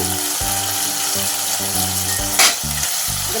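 Okra frying in a pan for a mustard okra dish hisses and sizzles steadily up close, with rhythmic stirring scrapes and one brief louder splash of clatter partway through.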